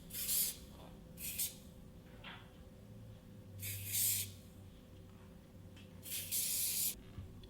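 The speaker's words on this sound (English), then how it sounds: "And then I seal the hair with the Schwarzkopf hairspray." Schwarzkopf hairspray mists onto styled hair in several short bursts separated by pauses, close and crisp over a quiet room.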